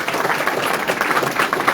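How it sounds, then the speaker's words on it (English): Applause from the audience at an Alaska Senate district debate, a dense burst of clapping that runs evenly from start to end. "you can give them a good round of applause"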